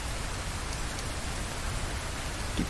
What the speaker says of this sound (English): It keeps starting to rain.